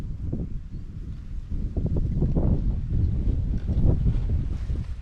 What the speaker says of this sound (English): So the wind is a bit of a nightmare